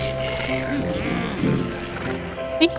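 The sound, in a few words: sheep bleating in video game Wytchwood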